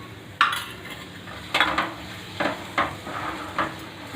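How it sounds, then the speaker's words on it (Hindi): Spoon scraping and clinking against a pan as roasted flour is stirred into a spicy bottle gourd and urad badi curry, with several distinct sharp scrapes spaced irregularly over steady background hiss, close and moderately loud. "अब हम भुने हुए आटे को डाल देंगे और इसे हम अच्छी तरह से मिक्स कर देंगे।"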